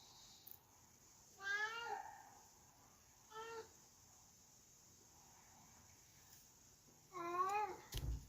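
An old, noisy house cat meows three times, close and clear, with quiet gaps between the drawn-out calls.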